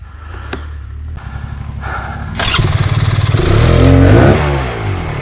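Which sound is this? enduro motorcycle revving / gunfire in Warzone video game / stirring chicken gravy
enduro motorcycle revving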